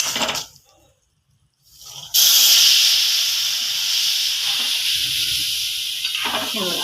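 Sugar syrup poured into semolina shira roasting in ghee bursts into a loud, steady hissing sizzle that carries on after a brief quiet moment.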